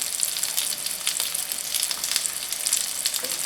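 Shishito peppers and onions sizzle steadily in a pan over high heat, a loud, continuous close-up crackle with no talking.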